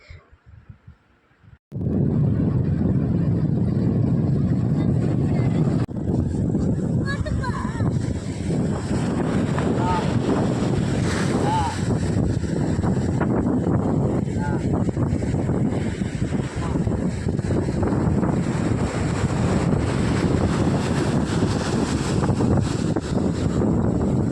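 Strong wind roars across the microphone with heavy surf from a rough sea crashing continuously, loud and close, after a brief quieter moment at the start.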